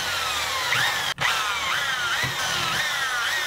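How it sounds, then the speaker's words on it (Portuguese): A power drill bores screw holes, its high whine pulsing in regular cycles of about one per second, with a brief cutout early on, close and loud. "Vou aqui com a furadeira."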